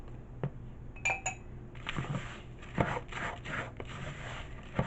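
A spatula works a crumbly cheesecake crust in a bowl, giving a few light clinks against the bowl followed by repeated scraping and tapping strokes, close and fairly quiet.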